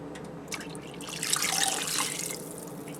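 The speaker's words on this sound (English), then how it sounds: "now I'm going to go ahead and add the water." Water poured into a pot while making creamy ham and potato soup, a brief, moderately quiet burst of splashing and running water in the middle of the clip, with no talking.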